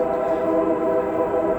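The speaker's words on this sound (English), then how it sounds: "But this train is going by" A train passing by outside, a steady loud rumbling roar with sustained horn-like tones that continues without break and is heard alone.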